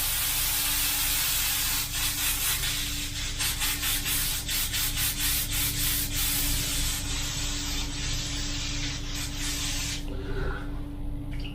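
An airbrush sprays paint onto e-bike parts in a steady, close hiss with short pulsed bursts, fading out near the end under a low motor hum.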